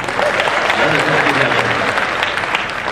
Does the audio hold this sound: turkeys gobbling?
no